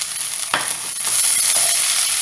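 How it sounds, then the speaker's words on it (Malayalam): Chopped ridge gourd with a little grated coconut sautéing in a pan, giving a steady bright sizzle with scraping stir sounds throughout, close and continuous, with no voices. "ഈ പീച്ചങ്ങ ഇതേമാതിരി അരിഞ്ഞത് നന്നായിട്ട് വഴക്കണം."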